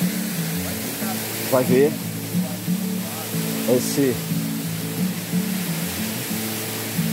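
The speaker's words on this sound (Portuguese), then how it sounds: "Estamos chegando em uma das cachoeiras, que chama Cachoeira da Cafundó" Steady broadband rush of the Cachoeira da Cafundó waterfall in Ubajara National Park, Ceará, a constant roar heard at moderate distance beneath a voice talking intermittently.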